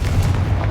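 A Confringo spell blast in Hogwarts Legacy, one loud, heavy boom rolling for a split second with nobody speaking.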